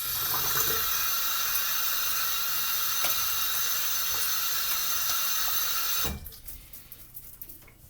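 Tap water runs steadily from a bathroom faucet while a face is rinsed during a wet shave. The broad hiss holds loud and close for about six seconds, then the flow stops and only faint rustling and drips remain.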